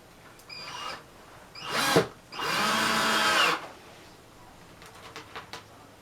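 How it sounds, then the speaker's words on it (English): Close power drill driving screws into an IKEA vanity runs in bursts, a short whir then a longer sustained spin driving a screw, followed by faint clicks and handling noises. "And just drill them in."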